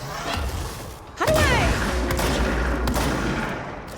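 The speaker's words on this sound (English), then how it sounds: "Was that me throwing rockets?" Rockets are thrown during a big boss fight in a video game, a sudden loud burst of explosive crashing with a rising whistle that swells into a sustained rumbling barrage.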